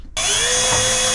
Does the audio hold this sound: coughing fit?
no